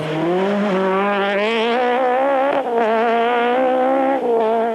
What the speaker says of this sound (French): Lui aussi effectue ses premiers tours de roue au volant de sa nouvelle monture, la Saxo Kit-Car Ex-Collard.